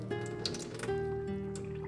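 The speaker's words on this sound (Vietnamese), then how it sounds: "Sau đó mình sẽ rửa cho thiệt là sạch nhiều lần nước." Water swishes and drips as hulled mung beans are washed in a pot, soft wet sloshing close by under a faint background hum.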